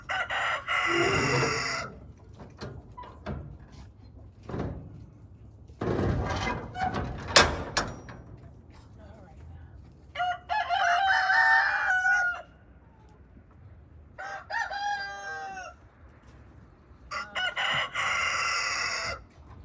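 Roosters crow repeatedly, loud and close, with several long drawn-out calls separated by clucking and knocking noises.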